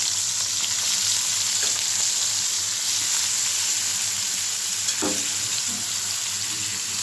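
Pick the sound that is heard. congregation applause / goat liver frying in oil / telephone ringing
goat liver frying in oil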